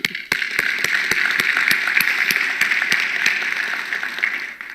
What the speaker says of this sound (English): So a big round of applause to all of our customers for doing that.